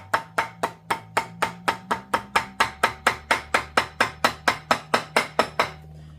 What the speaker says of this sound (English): And then just trace around with the hammer.